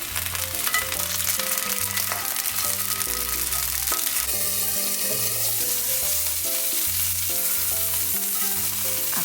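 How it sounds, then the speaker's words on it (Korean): Shrimp frying in hot oil in a cast iron pan while making seafood paella, a loud continuous sizzle with crackling spatter close up and no voices. "새우를 먼저 구워줍니다."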